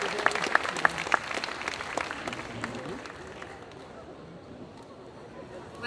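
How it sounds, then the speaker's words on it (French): Audience at a solo cosplay contest applauds a contestant, a burst of clapping with a few sharper nearby claps that fades into a softer crowd murmur, with a voice talking over it. "Applaudissez-la fort."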